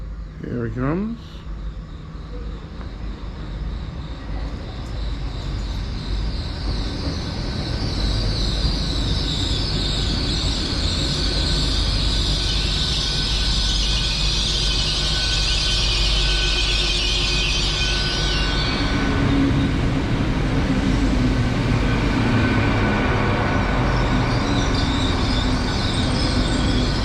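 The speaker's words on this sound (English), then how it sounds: "The train from London should be in shortly." A train from London pulls into a station, its wheels squealing loudly and its rumble building to a steady, close roar, with a person talking over it.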